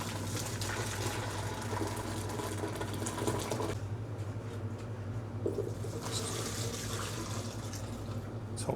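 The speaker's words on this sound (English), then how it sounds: "adding a couple of litres of hot water." Steady rushing hot water pours continuously into a jug, a couple of litres, with a low constant hum underneath and a brief dip in the splashing midway.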